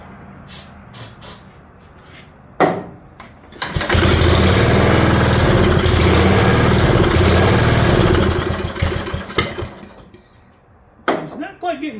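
A rare 1973 AMF garden tractor engine that has sat for 29 years cranks and briefly catches, roaring loud and steady for several seconds before dying away. Short cranking bursts come before and after, with some talk.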